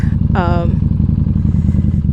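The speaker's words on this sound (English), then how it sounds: "she purrs so great, so loudly. She's a great bike." Motorcycle engine idling steadily up close, a loud continuous low rumble with a brief higher whine near the start; the bike has a windshield and a non-stock exhaust.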